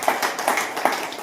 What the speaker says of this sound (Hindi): मैं चाहूंगा एक जोरदार ताली।